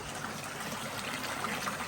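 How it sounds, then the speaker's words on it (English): Water trickles and flows through the media of a HIGH-fil 50 koi pond filter, a soft, steady dribbling that stays quiet and close for under two seconds. "Water's going through there."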